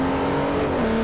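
A 1972 Mercedes-Benz 300 SEL accelerating in the racing game Forza 4, a loud, close, steady engine drone with a tone that climbs and then shifts briefly near the end.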